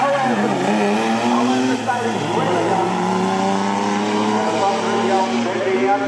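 A 3-litre Mercedes-Benz 4x4 roars down a drag strip in a loud, sustained high-revving engine run with rising and falling pitch, while an announcer talks over it.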